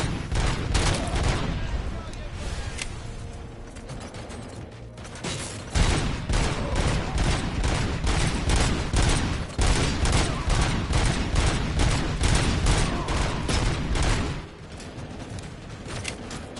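RoboCop's leg-holstered gun in RoboCop: Rogue City fires in rapid, evenly spaced bursts of sharp shots, loud and near, with brief pauses between volleys and someone speaking intermittently.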